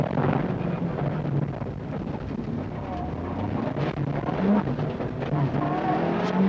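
Onboard a Toyota Celica rally car on a 1999 Circuit of Ireland stage, a steady engine roar with wind buffeting, under a co-driver calling pace notes and commentary talk.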